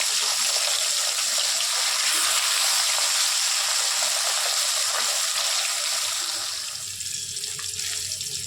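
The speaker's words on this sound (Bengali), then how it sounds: "মাছটা একদিক ভাজা হয়ে যাচ্ছে," Aar fish fries in oil in a pan for a papaya fish curry, making a steady, loud, close sizzle that holds throughout and eases slightly toward the end, with no talk.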